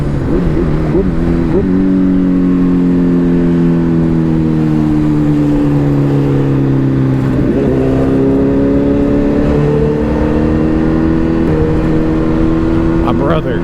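A truck hauling a trailer drives past close by, its engine a loud, steady drone with pitch shifting slightly as it moves along in continuous traffic noise.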